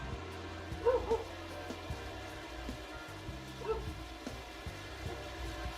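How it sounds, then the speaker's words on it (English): A dog barks in the background, two short barks spaced a few seconds apart, faint behind steady engine drone from a racing game at Pocono. "Sorry about my dog in the background."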